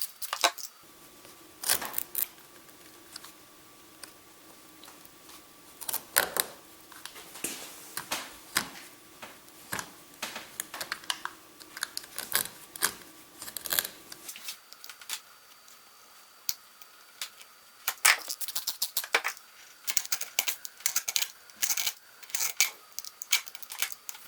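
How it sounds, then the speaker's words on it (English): A dulling blade slices along the side of a rubber tire, producing irregular, close-up zipper-like rasps and clicks that come in short bursts and pauses, with no talking. "That zipper sound is just the sound of the blade going dull."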